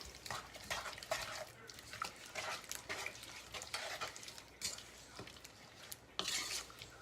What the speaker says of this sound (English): And mix that on up.